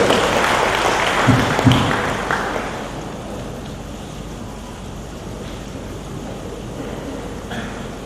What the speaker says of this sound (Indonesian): Kita beri tepuk tangan untuk sesepuh kita dari Jakarta.